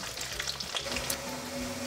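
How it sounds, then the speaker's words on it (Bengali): Potatoes frying in a pan over medium-low heat, a steady close sizzle and crackle of hot oil with soft stirring scrapes throughout, no voices. "আলুগুলো একটু ভালো করে ভেজে নিই।"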